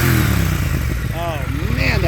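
Triumph Speed Twin 1200 motorcycle engine, a loud close burbling idle with a brief rise in revs, while someone speaks over it.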